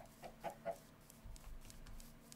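Minecraft chickens cluck in a few short, soft bursts early on, followed by low background rumble, with no talking over them.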